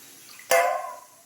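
Water is poured into a bowl of sugar to make syrup for chamcham, heard as one short, close splash that trails off quickly in a quiet kitchen.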